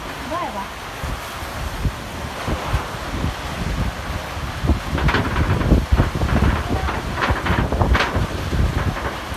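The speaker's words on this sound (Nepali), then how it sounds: "ठुलो ठुलो हावाहुरी आइरहेको छ साथीहरू" Strong windstorm in Chitwan, Nepal, roaring as steady broadband gusts, with rustling and flapping bursts growing louder toward the middle and end while a voice talks over it.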